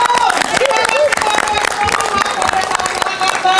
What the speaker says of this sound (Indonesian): Tepuk tangan untuk Pulung Gantung.